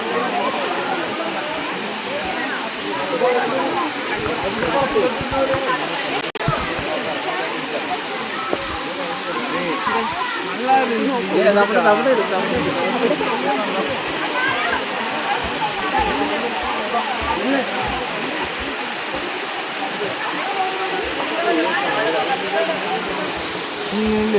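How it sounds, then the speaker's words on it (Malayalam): The small Shoolam waterfall drops from above into a crowded, muddy pool, a constant loud roaring rush heard close up, with people talking over it throughout. "ചെറിയ വെള്ളച്ചാട്ടമാണ്."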